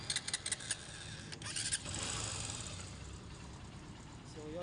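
A TMX Supremo motorcycle engine cranks with a few sharp bursts and catches. It then settles into a steady, close idle that continues to the end.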